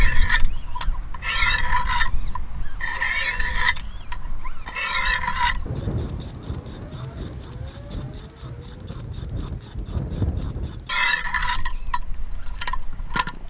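Knife blade drawn across 200 grit stones on a Wicked Edge WE120 sharpener, a steady close rasping scrape of repeated passes, with louder stroke bursts at the start and end and a high metallic ringing tone through the middle.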